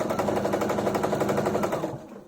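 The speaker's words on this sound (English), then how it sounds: "I'm sewing on a short stitch again" Sewing machine running a short stitch while joining large quilt sections: a fast, even rattling whir, loud and close, holding steady for about two seconds before it stops abruptly.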